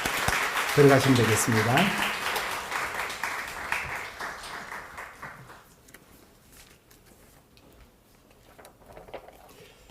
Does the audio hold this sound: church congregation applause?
yes